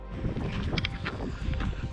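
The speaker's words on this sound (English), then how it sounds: "It's a bit windy" Gusty wind buffets the microphone at Dettifoss waterfall in North Iceland, a rough, fluctuating rumble with no speech.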